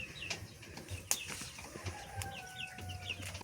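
Chickens cluck softly at a rural Nepali homestead where a meal is being cooked over a fire, short fowl calls scattered over faint outdoor background noise.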